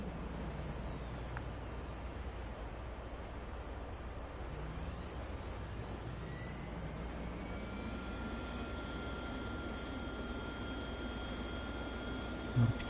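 An AV-8B Harrier jet engine in the DCS flight simulator spools up steadily, a broad roar with rising whining tones building over several seconds, no talk.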